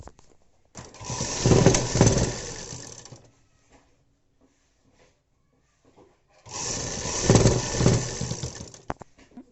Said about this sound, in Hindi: देखिए गाइस, हमने यहाँ पर इसको सिलाई लगा ली